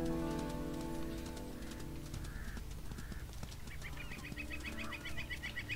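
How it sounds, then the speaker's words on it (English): Loud birds in the video game WolfQuest honk and quack in repeated squawking calls over a steady ambient hum, growing busier toward the end, with no voices. "Loud birds!"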